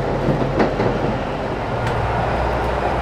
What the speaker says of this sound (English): Very noisy, so it's more like a train than a tram at this point on the Poznań fast tram.